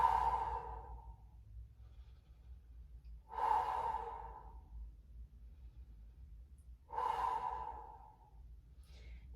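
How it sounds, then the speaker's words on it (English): Three slow, deep breaths are audible during a beginner lotus-pose yoga session, each a soft breathy rush of air close to the microphone, evenly spaced with quiet pauses and a low room hum between. "Long, deep breath out."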